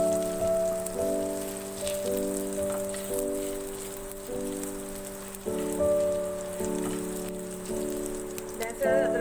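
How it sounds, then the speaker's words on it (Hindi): Garlic-ginger paste frying in hot oil for a Pakistani chole chaat, a continuous rain-like sizzle and crackle under steady background music, with no talking. "इसको ऑयल में थोड़ा सा फ्राई करेंगे।"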